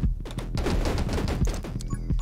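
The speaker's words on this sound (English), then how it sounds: "I pretty much just shoot until I reload and then I move." A shotgun in the video game 10 Minutes Till Dawn fires in a fast, dense stream of punchy blasts. The loud overlapping shots continue almost without a break, with no talking over them.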